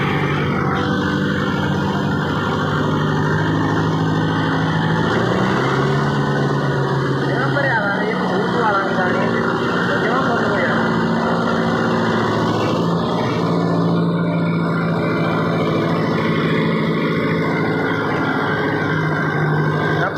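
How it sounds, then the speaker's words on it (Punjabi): A tractor hauls a fully loaded trolley during the 1509 rice harvest, its engine giving a steady, throaty drone with a slight rise midway, continuous and fairly close throughout. "ਪੂਰਾ ਫੁੱਲ ਟਰਾਲਾ ਭਰ ਕੇ ਚੱਲੀ ਜਾਂਦਾ ਟਰੈਕਟਰ"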